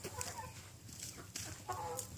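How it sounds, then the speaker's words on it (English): Chickens being fed corn cluck and squawk close by in short, scattered calls over a low background murmur of the flock. "Right now, we're just feeding them some corn."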